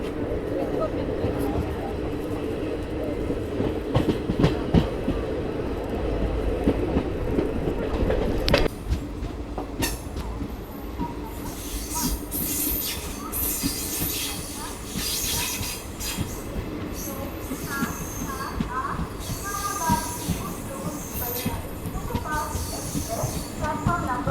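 The Vikarabad–Guntur Palnadu Superfast Express pulling away and accelerating rapidly, wheels clattering and squealing over the rails, the rumble rising and shifting as it moves, voices faintly mixed in.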